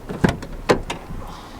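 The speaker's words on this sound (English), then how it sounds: "Can't unlock the driver door, but the passenger door works." The passenger door of an old pickup truck is unlatched and opened, giving two sharp mechanical clunks and a lighter click, close by, with a quiet room tone under them.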